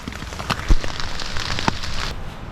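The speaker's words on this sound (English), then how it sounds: "Still steady raining and it still hasn't let up yet." Steady heavy rain patters on a camping tarp, a dense continuous hiss dotted with louder individual drops hitting close by, with no talking.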